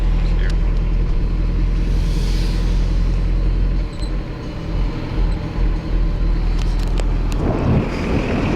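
A car drifting in a parking lot: a steady, loud engine roar with wind buffeting throughout, dipping briefly midway before surging again, with a rising rush of tyre and engine noise near the end.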